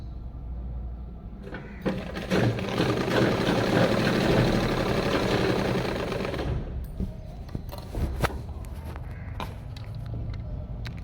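Sewing machine stitching a half-inch seam along a belt, a rapid mechanical rattling run of about five seconds, close and loud, followed by scattered clicks and handling knocks.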